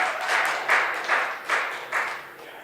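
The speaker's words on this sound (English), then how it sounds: "Put your hands together for Luke Langfeldt. Big round of applause." A small open-mic audience at Camp Bar applauds a comedian, a short burst of clapping that rises and falls in a few uneven waves and fades out.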